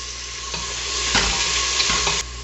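Coarsely chopped onion, browned garlic and small cinnamon sticks frying for a cabbage coconut curry, a loud, continuous sizzle with spoon scrapes through the pan.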